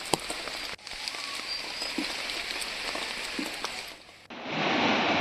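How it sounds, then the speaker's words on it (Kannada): Heavy monsoon rain in Karnataka roars as a dense, steady hiss of downpour, cutting briefly before surging back even louder and broader near the end. "ಆರಂಭದಲ್ಲೇ ಮಳೆ ಈ ರೀತಿ ಅಬ್ಬರಿಸ್ತಾ ಇದ್ದು ಅನಾಹುತಗಳಿಗೆ ಕಾರಣವಾಗ್ತಾ ಇದೆ."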